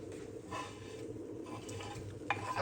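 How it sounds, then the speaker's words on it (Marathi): Grated coconut roasts in ghee over a low gas flame, a soft steady sizzle with gentle scraping as a spoon stirs it around the pan, close and continuous with no talk. "हे चांगलं आपल्याला भाजून घ्यायचं आहे खोबरं तुपामध्ये बारीक गॅसवरती"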